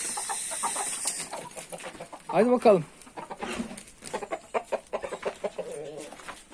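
Asil Indian roosters with their harem of hens, several clucking and crowing calls close by, including a loud harmonic crow in the middle, with someone talking intermittently throughout.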